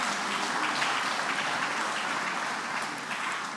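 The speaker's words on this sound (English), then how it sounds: "A round of applause for them again." An audience at a symposium for Nigeria's 63rd independence anniversary applauds its panelists, a dense, even wash of clapping that holds steady for several seconds and eases slightly at the end.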